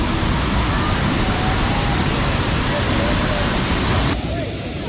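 Banjhakri waterfall near Gangtok, Sikkim, roaring as a loud, steady wash of rushing water that fills the scene without a break.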